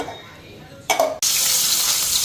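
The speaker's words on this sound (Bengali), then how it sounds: "মাছগুলি ভাজা বসাই দিলাম" Fish frying in a pan: a quiet moment, a short clatter as the pieces go in, then a loud, steady sizzle that starts abruptly and carries on evenly to the end.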